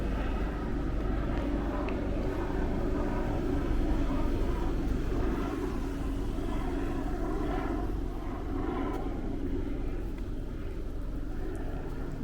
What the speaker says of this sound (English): You hear that helicopter above me?